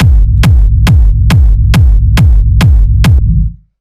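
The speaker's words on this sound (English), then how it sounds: "so the first thing that's going up here is we have the kick rumble" Hard techno kick rumble synth built from two layers, a kick and a rumble: eight loud, evenly spaced booming kicks about every 0.44 seconds, each trailing into a deep rolling low-end rumble, ending with a short decay.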